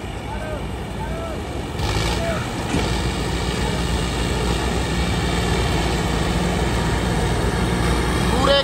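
A tractor engine labours at full power in a waterlogged, muddy field while pulling a sinking machine. It makes a steady, loud, droning roar that swells slightly toward the end, with voices talking over it.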